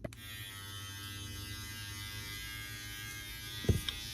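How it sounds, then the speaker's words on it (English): A Voukad electric body hair trimmer runs close by with a steady buzzing hum as it shaves an arm, ending with a couple of brief thumps near the end. "So let's just try doing just my arm, all right?"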